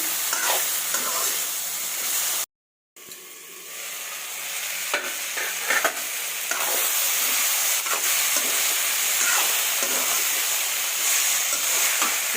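Steady sizzling and crackling of red chilies frying in hot oil, with occasional stirring scrapes and a brief dropout partway through.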